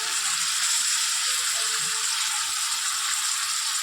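Masala paste of ginger, a little garlic, chili and sour yogurt frying in a pan gives a steady, close hiss of sizzling that holds even from start to finish, with no talk over it.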